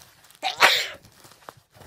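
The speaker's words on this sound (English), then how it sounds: "Thank you for sneezing" A single sharp sneeze bursts out close by, followed by faint rustling and a small click in a quiet room.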